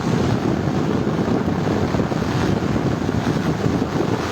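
Floodwater of the swollen Gomti river in Comilla rushing past in strong wind, a loud continuous roar with heavy wind buffeting, no talking.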